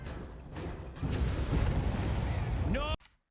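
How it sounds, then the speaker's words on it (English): In the Dead by Daylight video game, a Hex Undying totem breaks with a loud, sustained rumbling explosion that ends in a brief rising tonal chime, then cuts to silence. "So that explosion right there, that was our Hex Undying totem disappearing"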